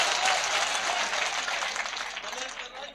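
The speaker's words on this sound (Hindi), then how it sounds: "एक बार जोरदार तालियां बजाइए" An audience at a mushaira, an Urdu poetry gathering, gives sustained, fairly loud applause that thins slightly toward the end, with a voice speaking over the clapping.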